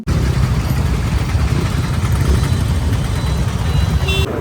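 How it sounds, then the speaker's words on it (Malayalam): A motorbike riding through a traffic jam, its engine a loud, continuous close-up rumble with road noise, steady throughout with no pauses and no speech. "നമ്മളിങ്ങനെ ബൈക്കിൽ കൂടെ പൊയ്ക്കൊണ്ടിരിക്കുകയാണ്."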